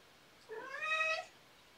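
A house cat gives a single drawn-out meow lasting under a second, clear and close against a quiet room with no talking.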